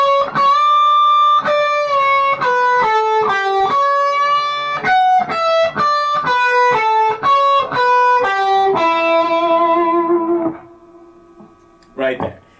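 Electric guitar plays a slow blues lick, clean sustained single notes and bends picked one by one, loud and close, ringing out and fading before a brief final pluck.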